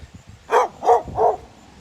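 A dog barks three times in quick succession, close and fairly loud, with short even gaps between barks and only faint room noise around them.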